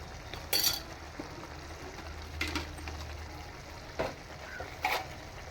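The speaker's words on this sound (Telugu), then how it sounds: "రుచికి తగినట్టు సాల్ట్ వేసుకొని బాగా ఫ్రై చేసుకోవాలి నీట్గా ఫ్రై చేసుకోవాలి" Paneer frying in a pan with coriander powder, turmeric and chili makes a soft continuous sizzle, broken by a few stirring scrapes and light clinks of a spoon against the pan.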